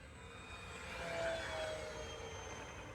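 Twin RC P-51D warbird model planes flying in formation pass overhead, a steady engine drone swelling slightly as they come closer and then holding at a moderate distance, with no talking.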